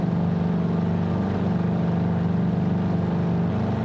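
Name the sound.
ultralight plane's Boxer twin engine in Flight Simulator 2020 video game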